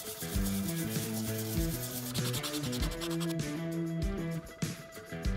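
Hand sanding of a fabricated metal bracket with 600 grit sandpaper: repeated rubbing strokes with a soft scratchy texture, mostly buried under loud, steady background music.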